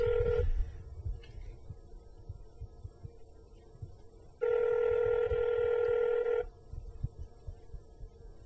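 A phone line rings twice with bright steady electronic tones, a short one and then a longer two-second burst, over a faint background hum and low rustling at fairly low volume.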